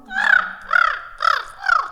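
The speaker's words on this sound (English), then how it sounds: "cacophony of crow calls back and forth" Four rough crow caws in quick succession during a musical performance, evenly spaced, loud and nearby, forming a back-and-forth cacophony.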